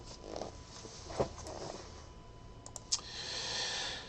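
Two quiet, separate mouse clicks on a computer running an online list randomizer during a sports trading card box break, spaced well apart over faint room hiss.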